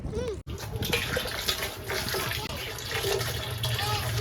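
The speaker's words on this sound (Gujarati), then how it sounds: "પાણી આવે છે ને હવે એ પાણી ડાયરેક્ટ અમારા ઘરે" Steady rushing water pours continuously from a pipe, broadband and close, with faint talk in the background.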